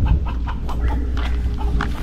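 Chickens cluck repeatedly at close range in a quick, uneven series of short calls over a low background hum.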